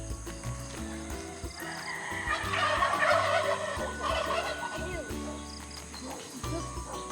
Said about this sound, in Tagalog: It's a mommy turkey.